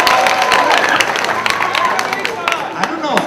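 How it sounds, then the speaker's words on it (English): Audience applause at a rabbi's talk, dense clapping with crowd murmur throughout, fairly loud and steady without distinct speech on top. "I don't know if that was a good applause for me or bad applause."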